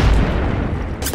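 Gunshot in an online multiplayer shooter game: a dull, booming low rumble that holds steady, then a brief sharp crack near the end.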